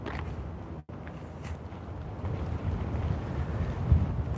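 Steady wind rumbling and buffeting close to the microphone outdoors at Pershing Plaza in Cheyenne, Wyoming, with a brief dropout near the start and no talking.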